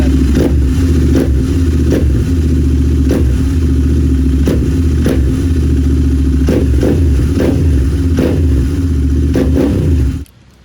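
A Royal Enfield Interceptor 650 motorcycle idles at a steady tick over, a loud, even throbbing engine note with regular periodic clatter, cutting off abruptly near the end.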